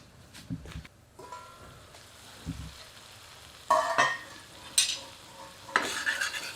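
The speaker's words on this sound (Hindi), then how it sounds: "जैसे जैसे मसाला भुनता जाता है, इसकी रंगत बढ़ती जाती है।" Spice masala for dhaba-style chicken fries in a pan, a soft sizzle beneath a series of sharp stirring scrapes and clinks of a utensil against the pan, coming in irregular bursts.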